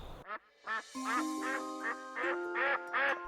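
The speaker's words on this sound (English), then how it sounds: "Mild squabbles over food or mates involve head bobbing, light pecking, and dramatic quacking." Pekin ducks squabble over food or mates with a run of loud, nasal quacks, about eight bursts in quick uneven succession, close by. A steady tonal hum runs underneath.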